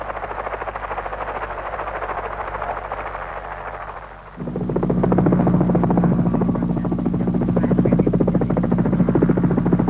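A helicopter supporting tunnel construction at Freeport, Indonesia, chops and drones steadily, growing louder and closer partway through, with a continuous engine whine beneath.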